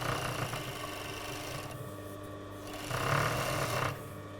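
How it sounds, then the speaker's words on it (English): An overlocker runs steadily up close, stitching the edge of a skirt seam with a continuous whirring hum that swells louder twice in brief bursts. "Going to overlock this edge together."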